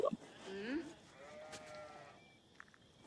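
Sheep in Age of Empires give a couple of short, faint bleats at the start under soft background game sound, and a quiet voice talks over the scene.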